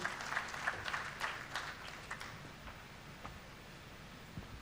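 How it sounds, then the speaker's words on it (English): Audience at a Red Cross training institute graduation ceremony in Kenya clapping as a guest takes the stage, strongest at the start and then thinning to scattered faint claps amid room noise. "clap for him as he takes the stage,"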